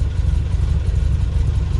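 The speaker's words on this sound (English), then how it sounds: "Look at that idle." Toyota Corolla 1.8L barn find with knockoff carburetors idles steadily, a close, loud, even low rumble with no talk.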